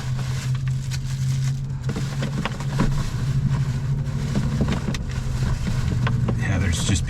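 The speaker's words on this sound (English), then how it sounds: "there's just people driving by out there" Cars drive past outside a parked truck at night beside a courthouse, a steady traffic rumble with a low hum heard from inside the cab.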